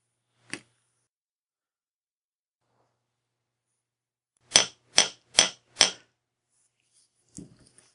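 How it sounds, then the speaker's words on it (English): Sharp metallic hammer taps on a hard surface as silver wire is flattened: one lone strike, then a quick run of four evenly spaced blows, and a lighter tap near the end. "When you hammer the metal a little bit, it strengthens the metal."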